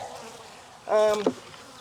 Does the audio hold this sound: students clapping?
no